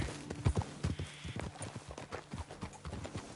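Horses' hooves clip-clop at a steady walking pace in the Red Dead Redemption 2 video game, close and distinct, with a faint whinny and soft outdoor ambience.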